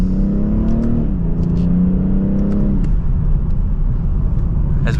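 A 2024 BMW 840i xDrive Gran Coupe with an 8-speed transmission accelerates from second gear, heard from inside as a steady loud engine drone whose pitch climbs, drops with a quick upshift, climbs again and then settles into a rumbling cruise.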